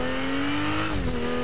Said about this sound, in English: The good thing about this car is that it can drift.